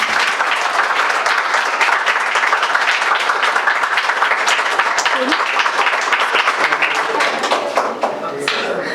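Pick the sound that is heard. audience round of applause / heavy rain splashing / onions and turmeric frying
audience round of applause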